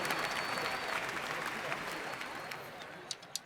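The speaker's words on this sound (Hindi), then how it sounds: "जोरदार तालियों से उनका स्वागत करें।" Loud, sustained applause from a crowd welcoming a devotee, Ratan Singh, after his 1001-rupee offering at a Lord Ram religious gathering. The clapping gradually fades, with a few last isolated claps near the end.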